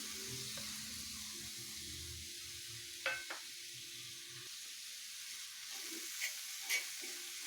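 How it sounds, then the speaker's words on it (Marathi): Chopped capsicum, onion and tomato lightly sautéed in a pan: a soft, steady sizzle close by, with a few brief clinks and scrapes of a spoon against the pan. "यानंतर इथे मी चिरलेली शिमला मिरची कांदा आणि टोमॅटो घेतला आहे ते हलकंसं पर परतून घेते"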